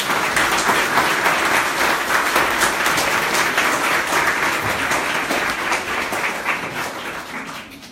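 An audience at a launch event applauds in a dense, sustained wave of clapping that slowly fades over several seconds.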